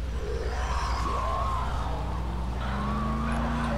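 A car engine drones while tires squeal and skid in long sliding sweeps, loud and continuous, inside the video game Dead Island.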